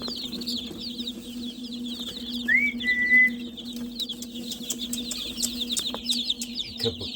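Chickens in a backyard flock, including a Silkie, an Americana and a black Ayam Cemani, cluck and chirp softly throughout, with a short whistling call partway through and a steady low hum underneath; no one speaks.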